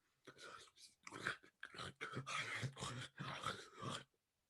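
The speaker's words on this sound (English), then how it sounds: "you hear like this like gurgling liquidy sound" Zombies feed in ZombiU: a close series of wet, throaty growls and groans in uneven bursts with short silent gaps, animal-like and guttural.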